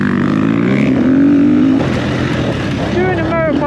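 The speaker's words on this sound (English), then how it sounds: "Doing a motocross track on an enduro bike" An enduro motorcycle on a soft motocross track, its engine droning loud and close with rising and falling revs, while a voice talks over it.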